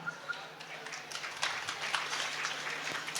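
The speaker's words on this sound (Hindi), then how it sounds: "ये ताली क्यों बजा रहे हो?" Audience at a Jain religious discourse clapping, a dense patter of many hands that builds slightly and continues steadily at moderate distance, with no other sound over it.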